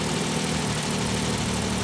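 A Ford Sierra Estate Mk1 4x4 Ghia 2.8 idles with a blowing exhaust, giving a loud, steady, close rumble with an even low pulse and no voices over it.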